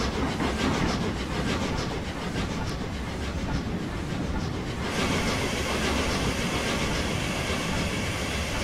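A train runs steadily along rails in the Train Simulator 2016 game, with a continuous rolling rumble and hiss that holds its loudness throughout, no voices.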